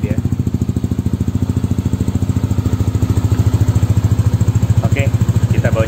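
Yamaha Nmax scooter idling through a new AHM aftermarket exhaust, a steady deep pulsing putter with an even fast rhythm, close and fairly loud, slightly bassy.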